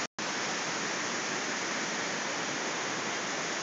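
Steady, roaring wash of a waterfall in hot weather, broadband and loud, filling the whole stretch without pause after a brief silent gap at the start.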